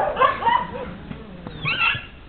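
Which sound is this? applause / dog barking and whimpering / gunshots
dog barking and whimpering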